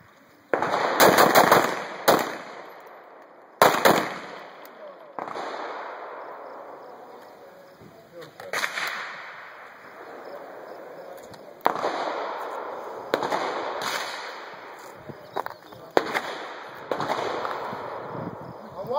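Gunfire on a shooting range firing line, with loud, sharp single shots and short clusters spread across the span. Range commands and talk are heard between the shots.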